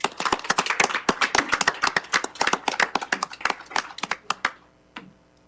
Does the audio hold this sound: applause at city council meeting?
yes